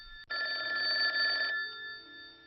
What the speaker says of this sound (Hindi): मोबाइल अचानक बजा।